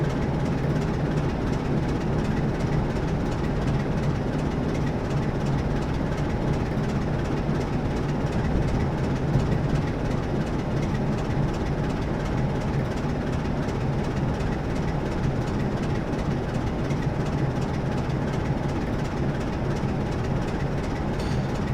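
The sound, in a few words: Class 47 diesel locomotive hauling Mark 1 coaches, video game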